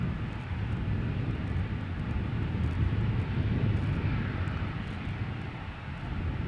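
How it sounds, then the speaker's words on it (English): A small Embraer 175 jet bound for Inverness passes near Schiphol's Polderbaan runway with a steady low rumbling roar that surges a little at mid-point before easing off. "Have a look at this little Embraer 175 going to Inverness."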